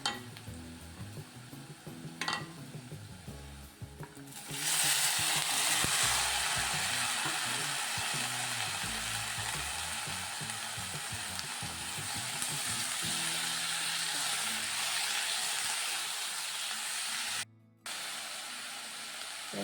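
Cabbage goes into a hot pan with turmeric and fries in a loud, continuous sizzle that rises suddenly and holds steady, with a brief cutoff near the end.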